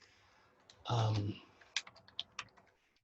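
A password is typed on a computer keyboard as a short burst of quiet, separate key clicks. The clicks are soft and close and follow a brief louder noise, and no one speaks.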